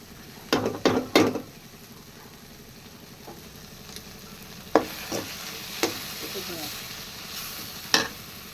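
Intestine curry simmering in a pan, a low steady bubbling sizzle with a few sharp clinks and stirring scrapes from a spoon against the pan, close by and fairly quiet, with no talk.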